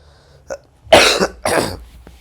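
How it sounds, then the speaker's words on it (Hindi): Two harsh, close coughs in quick succession, preceded by a small throat sound, with quiet gaps between them. "सॉरी मुझे खांसी हो गई है"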